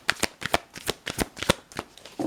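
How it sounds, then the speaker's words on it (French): A deck of tarot cards is shuffled by hand, giving a quick run of crisp, close riffling flicks in an uneven rhythm. "Un petit mélange s'impose."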